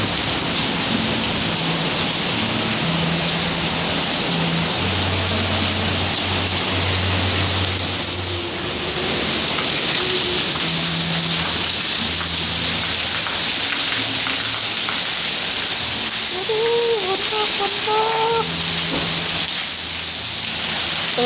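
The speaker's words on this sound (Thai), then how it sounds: "โอ้โหฝนตกฝนตก" Heavy rain pours down in a steady, dense hiss that continues throughout with no pauses, and faint low sounds can be heard under it.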